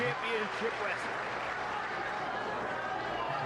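Arena crowd at a 1995 ECW TV wrestling match, Dean Malenko vs Eddie Guerrero, making a dense, steady wash of clapping and cheering noise that holds at full level throughout, with no distinct individual claps standing out.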